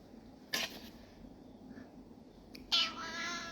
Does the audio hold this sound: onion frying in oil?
no